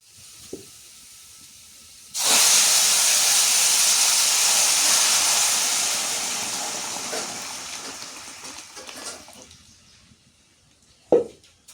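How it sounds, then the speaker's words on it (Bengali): Cumin seeds and onion hit hot oil for a lentil tempering and erupt into a loud, hissing sizzle that gradually settles and fades, followed by a quiet stretch with a few light clinks. "এখন খালি জিরা তেলানি করতেছি, জিরা আর পেঁয়াজ দিয়ে তেলানি করে নিয়ে"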